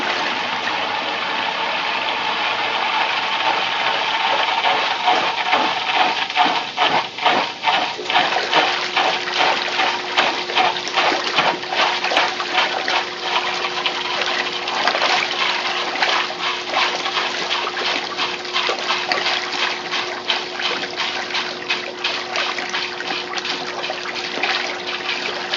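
Maytag A50 washing machine agitating a load of bath towels, hand towels and rags in water, a steady sloshing churn with rhythmic thumping strokes and a faint motor hum throughout.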